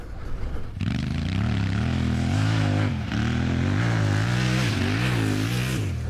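Motorcycle engine braking into a corner then accelerating hard out of it, a loud continuous close engine note with rising revs and shifting pitch throughout.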